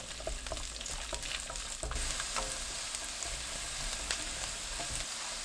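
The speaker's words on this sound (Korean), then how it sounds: "팬을 정리하고 식용유 2큰술, 마늘 넣어 중불로 1분 30초 볶아주세요." Garlic frying in two spoonfuls of cooking oil in a pan over medium heat, a dense, even sizzle crackling steadily and close throughout, with faint stirring taps and no voices.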